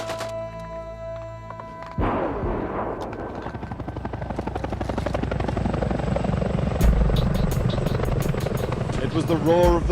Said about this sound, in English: It was the roar of the first helicopters overhead that told them the signal had come.